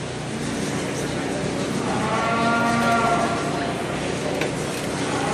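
Cattle low and moo at a livestock show arena, several drawn-out calls over a steady crowded background with speech underneath.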